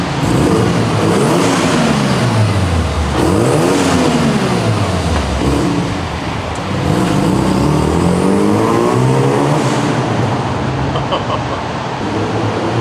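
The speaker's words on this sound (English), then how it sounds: "Rev it." A Mazda FD RX-7 rotary engine revs repeatedly, loud and close, climbing and falling in pitch through a series of throttle blips with a steady idle between them; no talking.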